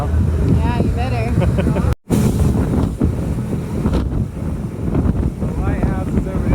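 An Island Express ferry speeding across open water, a loud, continuous rush of engine drone, hull wash and wind buffeting the microphone close by, with people talking over it throughout.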